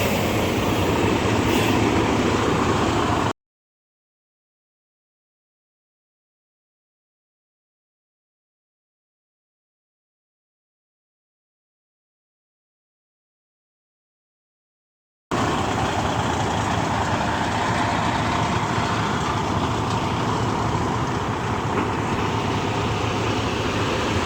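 A semi truck at a truck driving school pulls up while backing toward a receiver, giving a steady, close engine rumble that drops out for a long silent stretch midway before returning.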